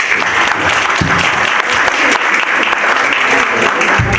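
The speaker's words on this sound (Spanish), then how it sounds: "Un aplauso, por favor." Loud, continuous audience applause at an academic forum on inequality and poverty, a full room clapping steadily throughout with no speech over it.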